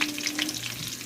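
Five pieces of lumpia Shanghai shallow-fry in oil in a pan rather than a deep fryer, giving a brief close bubbling sizzle.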